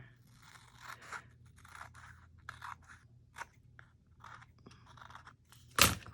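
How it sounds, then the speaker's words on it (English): Scissors snipping paper or fabric while making a fabric-covered envelope junk journal, a series of soft, close crisp cuts at an irregular pace, ending in one sharp louder snip, with no talking. "Usually if you look towards the end of your scissors instead of right where you're cutting it, works out a little better."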